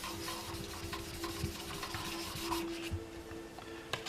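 Sandpaper rubs over a run in automotive clear coat in steady, close scraping strokes, a continuous gritty rasp with a few brief knocks, no talking.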